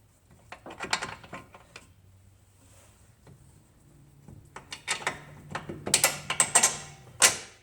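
Top bolt fitted and tightened on the driver-side front end of a 2004–2007 Toyota Highlander FWD, heard as close metallic clicks, ratcheting and clinks in irregular bursts, quieter in the middle and busier toward the end.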